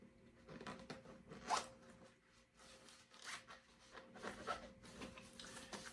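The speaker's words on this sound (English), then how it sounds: "Let me zip it up real quick." Backpack pocket zipper pulled closed in a few quick rasping strokes, close and fairly quiet, with short pauses between pulls.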